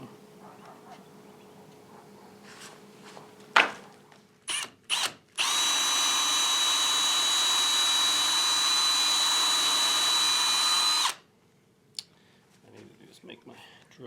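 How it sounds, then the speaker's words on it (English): A power drill runs in a sustained, loud whir for about six seconds while boring holes in a melamine form for concrete kitchen countertops, preceded by a few short bursts and clicks, with brief talk around it. "So push it down, then drill the hole."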